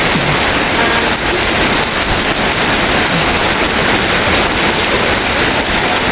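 Steady, heavy rain pouring down without pause, with no wind or thunder, a dense hiss of drops close by and loud throughout, with no voices.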